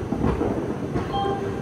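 Deccan to Purna Express train pulling into Begumpet station, a loud rumbling roll of wheels with clattering and a brief high squeal of brakes near the end.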